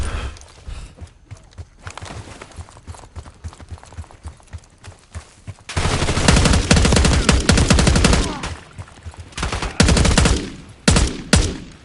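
Game gunfire from Call of Duty Black Ops 6: quieter scattered shots at first, then a loud sustained burst of rapid automatic fire, with more bursts near the end.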